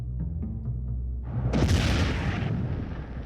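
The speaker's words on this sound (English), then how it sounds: "shaken by yet another terrifying explosion" A loud, sudden explosion erupts in a village neighbourhood, a heavy broadband boom bursting after quieter low rumbling and rolling on for about two seconds before easing.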